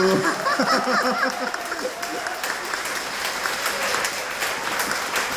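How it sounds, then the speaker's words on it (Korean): Standing ovation from a seated audience at a Catholic talk concert honoring an actress, sustained dense clapping filling the room at steady loudness, with a voice speaking briefly over the start. "기립박수입니다. 기립박수."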